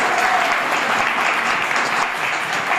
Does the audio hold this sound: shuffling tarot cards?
no